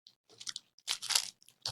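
Close, crisp crunching on a snack, several bursts of chewing with short pauses between bites, quiet and alone without talk.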